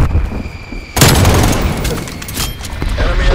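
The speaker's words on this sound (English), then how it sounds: "Strafe run incoming on your location." Aircraft strafe-run gunfire in a video game hits with a sudden loud roar of dense, rapid impacts and booms, continuing as a thick barrage to the end over constant background rumble.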